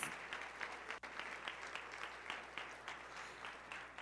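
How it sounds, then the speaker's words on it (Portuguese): A church congregation applauds its pastors with steady, dense clapping from many hands, sustained and fairly even, heard from a distance at low level. "Palmas para os nossos pastores."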